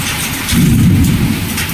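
Hail pelting down on grass during a hailstorm, a dense steady patter like heavy rain that swells louder midway and holds as a continuous close wash of noise.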